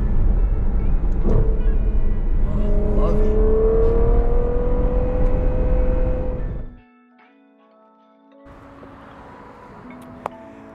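A Ferrari 812 GTS V12 revs hard through quick gear changes, its engine note climbing and dropping loudly up close, then falls away to a quiet idle hum before a sharp blip near the end.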